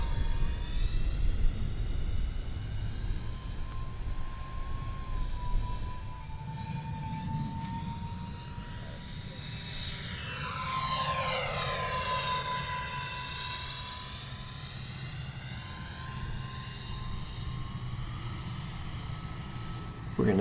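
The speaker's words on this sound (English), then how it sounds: "the sound this airplane makes going by when it's really hauling is something else" E-Flite F-14 Tomcat model jet with twin 40mm electric ducted fans flying past at high speed, a steady high-pitched whine that swells into a loud, sweeping pass and then drifts off, with a faint whistle continuing throughout.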